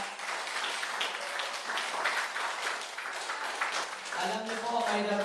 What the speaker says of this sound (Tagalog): Yung malakas na palakpak.